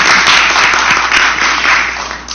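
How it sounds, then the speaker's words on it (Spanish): A room full of people at a legislative constitutional committee session applauds, dense and continuous clapping at close range for a couple of seconds. "creo que también al doctor Tuesta le demos un aplauso"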